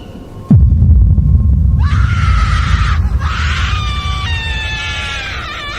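A shot forest ghost drops from a treetop and screams: a heavy thud, then a shrill, wavering, eerie howl that rises and holds in overlapping tones over a low drone.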